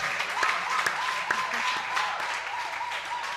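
An audience applauding in a TV studio on The Next TV Star, dense steady clapping with a few sharper individual claps, fairly close and loud throughout.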